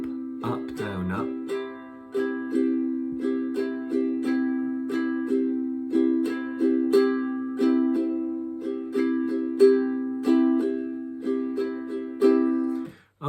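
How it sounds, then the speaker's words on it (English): A ukulele plays the island, or calypso, strumming pattern (down, down, up, down, down, up, down, up), with bright, even strums repeating in a steady loop, close and clear. "It's sometimes called the island strumming pattern or the calypso strumming pattern"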